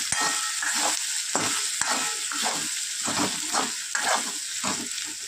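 Ginger paste and green chillies fry in a pan for a Bengali chholar dal, giving a steady loud sizzle broken by repeated sharp scrapes and clacks of a spatula stirring, with no voices.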